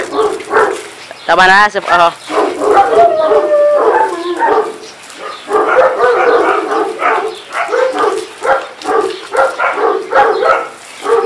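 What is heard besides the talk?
dog yelping when sprayed with water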